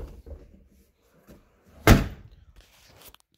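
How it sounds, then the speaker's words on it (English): Trunk lid of a Mercedes W126 300SD releasing after its key lock is turned, a sharp single thunk of the latch popping open amid soft handling noises. "And your trunk will open"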